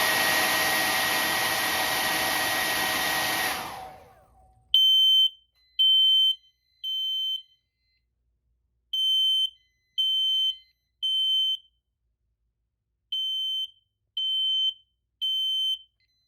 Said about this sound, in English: the sounder on the detector itself will activate